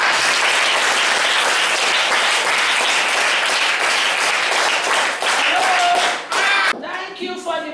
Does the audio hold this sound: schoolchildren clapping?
yes